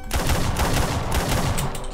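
Rapid burst of gunfire in the Roblox game The Wild West, loud sharp shots fired in quick succession for about two seconds with no talking.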